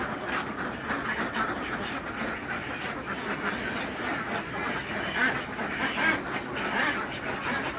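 Egg-laying ducks quack during feeding over a constant hiss of noisy background, with brief scattered calls and no talking.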